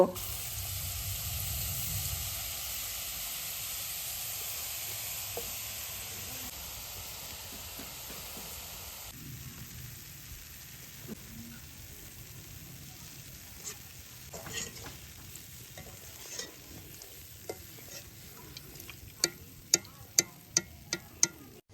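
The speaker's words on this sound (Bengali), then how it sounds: "এবারে লাল বোদে ভেজে নেব" Steady hiss of red boondi frying in hot oil with occasional stirring clinks, the ticks growing sharper and more frequent toward the end.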